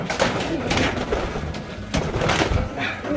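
A racing pigeon coos close by in a loft, with soft repeated throaty calls over a busy, noisy background.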